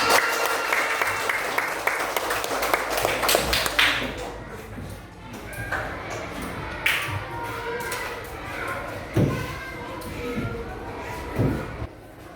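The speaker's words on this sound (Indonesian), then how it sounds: "Tepuk tangan." Children in a classroom clap together in a loud burst for about four seconds, followed by scattered taps, thumps and shuffling with voices in the background.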